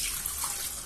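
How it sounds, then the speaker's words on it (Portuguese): Steady rush of water pouring continuously into a blender, close and fairly loud, with no voices. "vou colocar água aqui no liquidificador."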